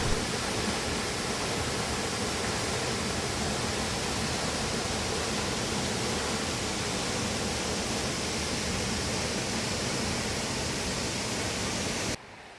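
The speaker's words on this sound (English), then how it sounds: "The second waterfall is Zillie Falls, also with a moderate walk to get there." Zillie Falls, a waterfall in Australia, roars as a dense, continuous rush of falling water, steady and loud for about twelve seconds before cutting off abruptly.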